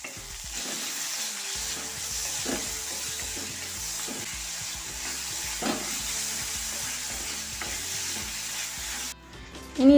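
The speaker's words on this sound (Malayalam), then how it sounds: "ഇനി ഇതിലേക്ക് നമ്മൾ അരിഞ്ഞു വെച്ച തക്കാളി ചേർത്ത് കൊടുക്കാം കേട്ടോ." Chopped tomatoes and crushed garlic hit a hot frying pan while cooking a Malabar-style mussels roast, a continuous sizzle broken by stirring scrapes and clinks, ending in a sudden louder clatter.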